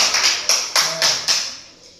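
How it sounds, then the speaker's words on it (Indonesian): A few bursts of clapping in a classroom for a student, about five short sharp rounds spaced roughly a quarter second apart, fairly close and loud, then fading out. "Tepuk tangan dulu untuk Al"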